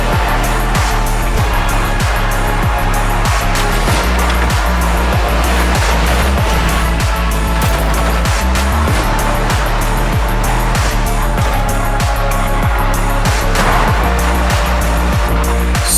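Racing cars from the video game Asphalt on PlayStation 4 roar continuously with loud engine drone, tire squeal and a steady pulsing beat of game music, dense and unbroken throughout.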